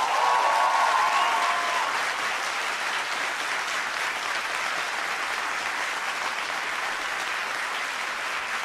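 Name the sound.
concert audience applause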